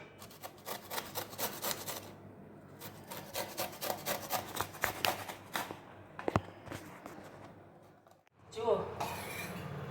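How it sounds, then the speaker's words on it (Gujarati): Raw mango being grated by hand for a spicy pickle, giving a steady run of rhythmic rasping strokes for several seconds, then a pause and a brief clatter near the end. "આવી રીતે છીણ કરી લેવાનું છે"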